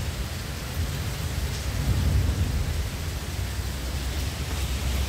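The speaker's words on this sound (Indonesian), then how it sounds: "Sepertinya hujan sudah mulai reda ya" Rain falls steadily in a dense, even hiss, with low rumbling thunder swelling briefly partway through and no voices.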